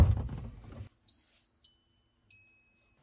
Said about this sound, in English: After you hear those beeps